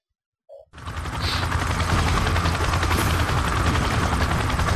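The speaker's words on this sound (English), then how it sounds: "Weird helicopter." Helicopter in the video game Call of Duty Modern Warfare, a loud, steady rotor thrum and engine whine that starts abruptly after a brief silence and holds throughout.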